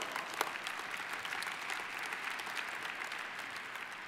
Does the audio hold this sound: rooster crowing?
no